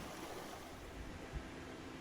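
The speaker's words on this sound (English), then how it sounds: "A furious river is running through the rainforest. The river relieves its angst of life in rocky rapids" A river rushes through rocky rapids in a Finnish rainforest, a steady broadband roar of churning water that holds constant throughout, with no voices.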